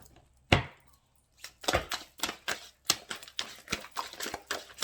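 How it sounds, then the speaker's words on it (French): Very soft, limp playing cards being shuffled by hand in a series of quick riffling bursts, close and fairly clear, with a short pause after the first burst. "Ah bah ça se mélange pas pareil parce qu'elles sont très très molles les cartes"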